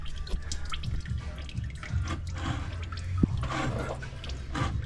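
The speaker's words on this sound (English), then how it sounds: "It'll start to drip." Engine oil from a Lexus GX460 drain plug falls into a catch pan during an oil change, a close, steady trickle and drip over a low background rumble, with one sharper drop standing out near the middle.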